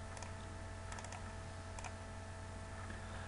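Typing on a computer keyboard while entering values into engineering software, with steady close key clicks in small bursts over a constant electrical hum.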